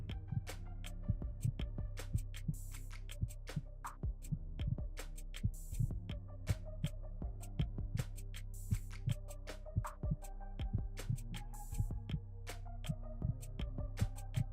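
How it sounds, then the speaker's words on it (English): A heartbeat sound effect pulses steadily in a slow, regular double-thump rhythm over a low continuous hum, with no voices. "Why are they playing a heartbeat sound?"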